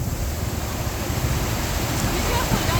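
Floodwater rushes through a Nairobi street after heavy rain, a steady, loud, broadband roar of moving water that holds at a constant level throughout, with no break or pause.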